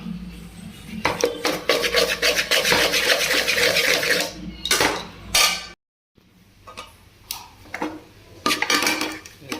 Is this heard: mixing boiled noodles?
yes